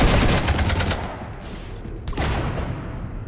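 Rapid bursts of sci-fi gunfire strafing a ship in the Mass Effect 3 video game, dense loud rattling volleys that briefly ease and then surge again.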